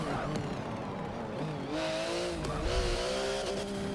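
A 2018 Porsche GT2 RS in Forza Motorsport 7 revs hard at launch, its engine note climbing through rising harmonics as the tyres spin, loud and close with no talk.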